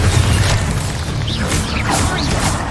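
A Bombarda spell explosion in the video game Hogwarts Legacy lands as a loud, close boom with crackling debris and whooshing magic effects, without speech.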